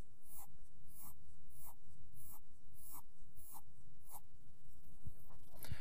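A pencil drags steady, evenly spaced strokes across paper, a close, soft scratching repeated in a regular rhythm of about two per second, building up a heavier line.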